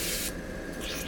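An airbrush sprays paint onto a skull figure in short hissing bursts, a soft close airy spray that stops and restarts within a second.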